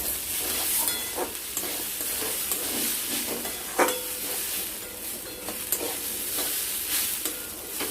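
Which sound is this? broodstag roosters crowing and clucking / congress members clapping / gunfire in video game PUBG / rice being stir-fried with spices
rice being stir-fried with spices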